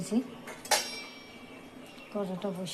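A wok goes down on a stovetop with a sharp metallic clank, and a spatula clinks against it. The sounds are brief and close, spread across a quiet kitchen, with a few faint voiced murmurs near the end.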